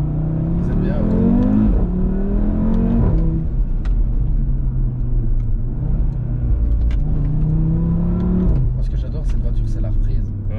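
An Audi RS3 with 400 hp accelerates hard, its engine climbing in rising revving sweeps with gear changes, loud and close throughout, probably heard from inside the car.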